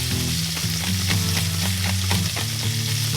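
Appetizers frying in a pan after a dose of salt and pepper for a football party, giving a steady close sizzle and crackle with faint scraping stirs throughout and no talking.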